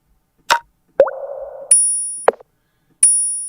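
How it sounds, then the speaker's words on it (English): Bright, ringing triangle-like metallic hits from a drum kit sample set, heard alone among a few other short plops and dings, each strike sustaining with a clear shimmering tail. "Little triangle sound."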